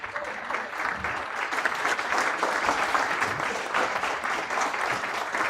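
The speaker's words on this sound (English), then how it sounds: "please, big round of applause for Stephen" A lecture audience gives a guest speaker named Stephen a big round of applause, a thick, sustained wash of many hands clapping at an even, loud level for several seconds with no voices over it.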